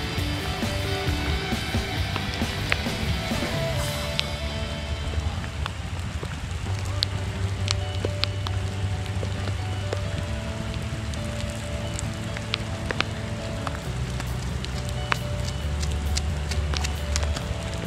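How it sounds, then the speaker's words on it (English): Rain falls outdoors during a unicycle ride along East Coast Parkway in Singapore, a loud, steady hiss with scattered crackling drops, while people talk intermittently over it. "It's raining, guys."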